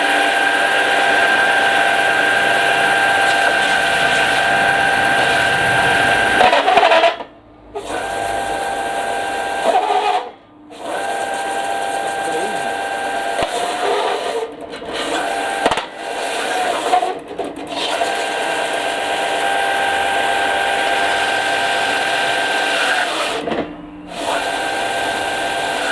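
Ryobi belt and disc sander running loud under load, its motor droning steadily and dipping sharply several times as workpieces press in and nearly stall it, then recovering to full speed.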